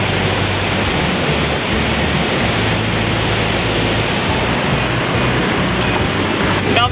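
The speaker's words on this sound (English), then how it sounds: "You can't get any better than the waterfall scenery in the background" Steady roar of a waterfall at a Georgia trout fishing spot, a loud continuous broadband rush of falling water filling the whole stretch with no pauses.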